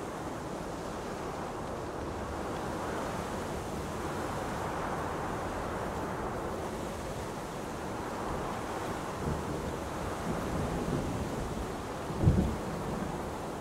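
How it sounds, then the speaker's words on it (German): A worsening storm on Mars in the video game Deliver Us Mars, heard as a steady roar of wind and low rumbling thunder that fills the whole stretch, with a sharper gust or crack near the end. "Der Sturm wird schlimmer, Mondbär."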